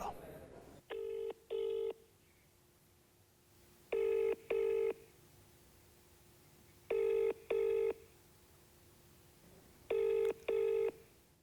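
A phone call to a Maharashtra legislator rings out unanswered. After a dial tone, a ringback rings in clear double pulses, four pairs in a steady pattern spaced a few seconds apart, with no voice.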